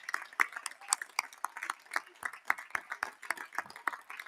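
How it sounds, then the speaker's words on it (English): Audience clapping for newly commissioned second lieutenants at a spring undergraduate commencement ceremony, with sharp, fairly sparse hand claps landing in an irregular rhythm across a modest crowd, close and distinct rather than a dense roar. "Let's give them all a round of applause and much appreciation for what they are about to undertake."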